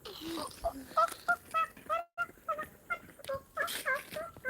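A child mimics a hen's clucking with a voice, giving a quick run of short, pitched clucks in an uneven rhythm, close and fairly loud, with a brief pause midway.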